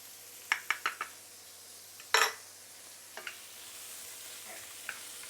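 Shiitake mushroom and dried shrimp are sautéed in a pan with a faint sizzle, broken by a quick run of spatula knocks against the pan, one louder scrape, and a few scattered later taps.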